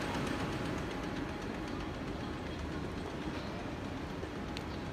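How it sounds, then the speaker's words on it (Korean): A train rumbles past at a distance near the entrance of Gwangju Zoo, with a steady, faint rolling noise and light rhythmic clatter throughout. "하마 입으로 이렇게 열차가 지나가나 봐요."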